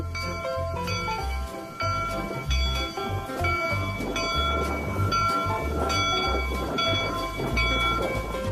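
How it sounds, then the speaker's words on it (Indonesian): Toy locomotive train sound effects playing loudly and continuously, with a bright, bell-like melodic pattern over a steady rumbling rhythm, alone without talk. "ini kereta api lokomotif"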